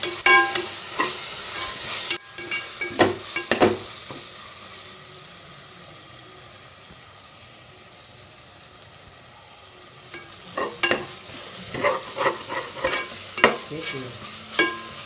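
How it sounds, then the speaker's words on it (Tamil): Ginger garlic paste frying in hot oil for kuska with a steady sizzle, broken by clattering stirs of a spoon against the pan, quieter in the middle stretch. "இஞ்சி பூண்டு பேஸ்ட் நல்லா வதங்கிருச்சு"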